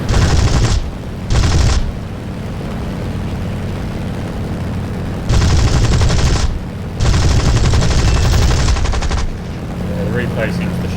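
A Spitfire Mk II's cannons and guns fire in War Thunder over Sicily, heard as four loud sustained bursts broken by stretches of steady engine drone.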